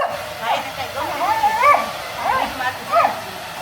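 A dog barks and yips in short bursts while being dried after a bath on a rooftop terrace, with whimpering tones between barks and a steady hiss of the dryer beneath.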